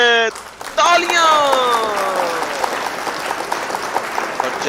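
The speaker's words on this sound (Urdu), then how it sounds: "تالیاں!" Applause from an audience answers a comedic talk, bursting in after a short musical sting and continuing as steady clapping for several seconds.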